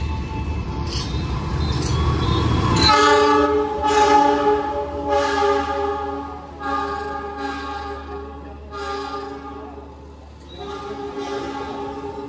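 The Menoreh passenger train pulls into a railway station in Indonesia, sounding several loud, sustained horn blasts in a row over the low rumble of the moving cars.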